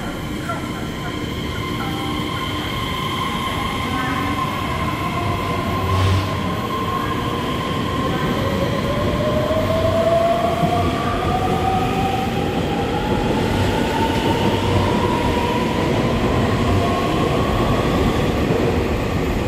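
A twelve-car Taiwan EMU3000 intercity express train pulling away from a station, with loud continuous rumbling and clattering wheels and a rising electric motor whine that climbs steadily in pitch as it gains speed, mixed with rail noise throughout.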